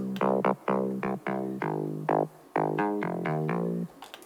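A series of short, layered Spire synth bass notes, buzzy and harmonically rich, played in a choppy rhythm with abrupt starts and stops, no voices.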